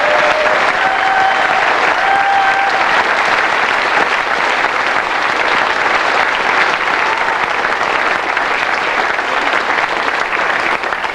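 A large audience applauds continuously at the 1999 World Professional Pool Championship, a thick, steady wash of clapping that holds at full strength throughout.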